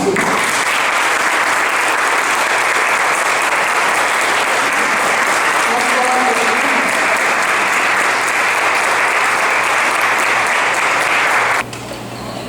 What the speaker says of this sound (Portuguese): Com nossos aplausos, maestro Joab.